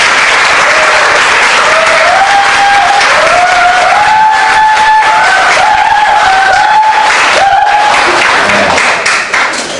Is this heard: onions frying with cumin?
no